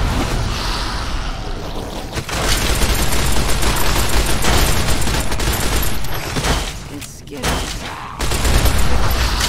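Sustained gunfire from Fallout New Vegas, loud and dense across the whole stretch with booming low end, briefly dropping out twice before resuming; a voice talks over it at times.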